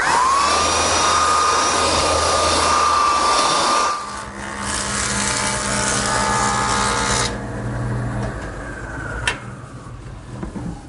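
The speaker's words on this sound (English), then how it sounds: "I'm ready to give each side a light sanding with my belt sander." A belt sander runs on glued-up wood panels with a loud, steady motor whine and grinding hiss. It shifts in tone partway through, then winds down near the end.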